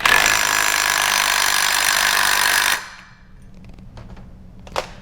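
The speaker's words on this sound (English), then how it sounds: "if you're using a drill, you want to put it in reverse and just tighten her down." A power drill in reverse whirs loudly and continuously for a few seconds while tightening the blade nut on an Echo SRM string trimmer, then stops, followed by faint clicks and a brief metallic rattle.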